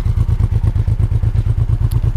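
A motorcycle engine idles in cold winter weather with ice on its muffler, giving a close, even, rapid thumping pulse that holds steady throughout.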